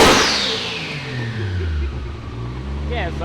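A 2JZ-swapped Toyota FR-S engine revs loud and close, its pitch rising and then settling into a strong throaty drone, with people talking over it.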